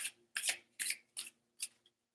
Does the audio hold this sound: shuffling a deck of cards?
yes